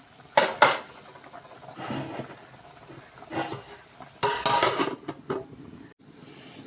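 A spoon scrapes and clanks against a pot while chicken pulusu curry cooking down with most of its liquid evaporated is stirred, in several irregular bursts of metallic knocks with quieter gaps between them.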